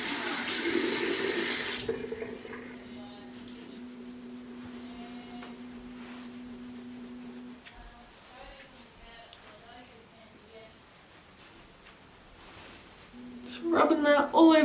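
Hot water gushes from a bathroom tap into a sink in a short close burst, stops, then starts again near the end, with a person talking in between.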